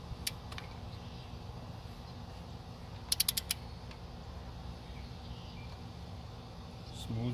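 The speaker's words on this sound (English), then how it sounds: "Now we can start torquing." Torque wrench clicking as it tightens cylinder head bolts on a 2007 Honda Accord K24 engine: a few isolated sharp clicks early, then a quick burst of four crisp clicks midway, close and clear over a faint steady background hum.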